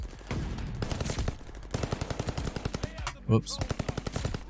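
Rapid automatic gunfire from the Call of Duty: Vanguard video game, loud bursts of sharp repeated shots in quick rhythm with brief pauses, a single short spoken exclamation breaking in.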